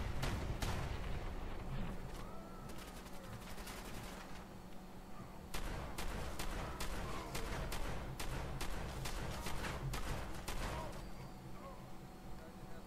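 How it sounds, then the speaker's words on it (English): Rapid gunfire in the Fallout 4 video game, with close-range shotgun blasts mixed into dense bursts of sharp repeated shots, loud and nearly continuous over a rumbling game background. "you can do massive damage with closer range shotgun shots"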